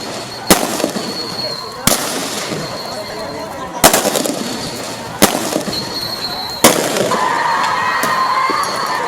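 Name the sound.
gunfire and tear gas shells during protest clashes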